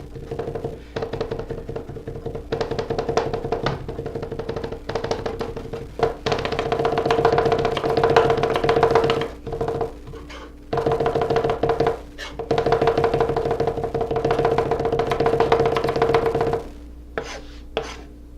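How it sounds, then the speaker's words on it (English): A knife cross-cuts and minces food on a cutting board while shrimp and snow peas are prepared, giving rapid, rhythmic chopping taps in dense bursts separated by brief pauses. "first thing I want to do is just make some cross cuts on this to break it into smaller pieces"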